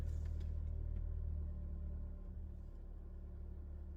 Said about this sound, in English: So now the only thing we can hear is the idling, not warm engine.